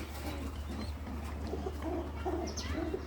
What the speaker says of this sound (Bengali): কি কবুতর এটা? এটা হলো নাপ্তাই বলি আমরা, অনেকে খাকি কবুতর বলে।